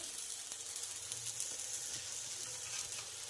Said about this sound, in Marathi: तर एक साइड आपला छान भाजलेला आहे, दुसरी साइड सुद्धा आपण भाजून घेणार आहोत